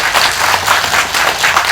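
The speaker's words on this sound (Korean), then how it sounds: "큰 박수로 환영해 주십시오" Audience applause welcomes a candidate at a residents' policy debate for the Gwanak-eul National Assembly seat, a dense, steady wash of clapping from a crowd, loud and close, with no voices over it.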